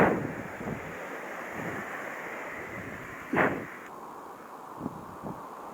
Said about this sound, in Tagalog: Malaking alon na.